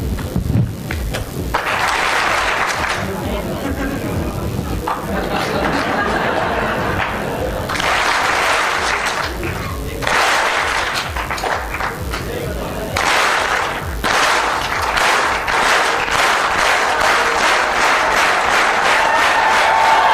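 An indoor audience at a sales seminar claps in several separate loud bursts, with talk heard in the pauses between them and a run of sharp, rhythmic claps toward the end.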